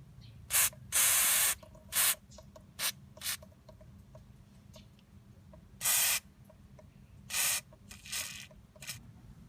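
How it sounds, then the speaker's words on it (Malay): Penetrating lubricant is sprayed from an aerosol can onto a tight brake caliper bolt on a Perodua Alza, in a series of short hissing bursts and one longer blast, close, with quiet handling between sprays. "Kita spray 4W40 dulu, senang sikit nak buka kan."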